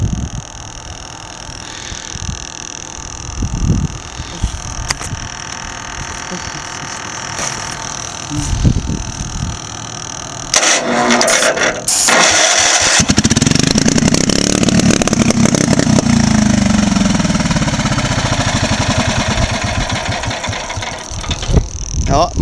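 A Generac generator engine is coaxed to life on ether, sputtering and then catching into a loud, rough running roar that builds through the second half with uneven revving, preceded by intermittent knocks and handling noise.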